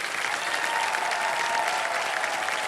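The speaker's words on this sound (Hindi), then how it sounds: "एक बार जोरदार तालियां बज जाए साधना जी के लिए" Studio audience applause on the Kaun Banega Crorepati quiz show set, a dense, sustained wash of many hands clapping at steady loudness throughout.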